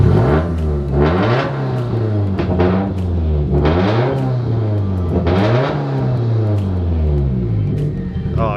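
A bagged Subaru STI's engine revs again and again, each sweep rising sharply and falling back to a steady, loud idle, captured up close with no one speaking.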